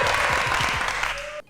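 A studio audience on a quiz show applauds a contestant, with a dense, steady burst of clapping that cuts off abruptly near the end, leaving a faint tone.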